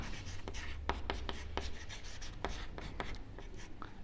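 Pen or pencil writing numbers on a paper drawing scale, with close, quiet scratchy strokes in short bursts and brief pauses between figures.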